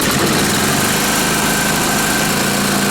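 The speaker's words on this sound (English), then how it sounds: "have me a little generator for 200 bucks. Let's hear it run." A small Onan AJ 1R single-cylinder generator set runs steadily close by under load from a hooked-up light, a continuous buzzy engine drone with a faint steady whine and no speech.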